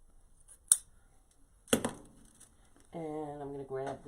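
Scissors cut ribbon for a farmhouse wreath, giving a couple of quiet, crisp snips and a crinkle. A voice follows at close range.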